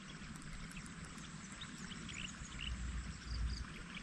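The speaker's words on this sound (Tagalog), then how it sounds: "yung kanal natin na patubig. Yan sa may mga gilid, yung bukid natin" Water runs through an irrigation canal beside a rice field, a steady, even rush and pour. It is fairly faint, with a slight swell toward the end and no voices.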